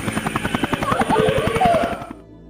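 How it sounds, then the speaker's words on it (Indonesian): A helicopter passes overhead, its rotor giving a loud, steady rhythmic chop for about two seconds before cutting off abruptly. "Selang beberapa saat, sebuah helikopter terbang di atas Jamie"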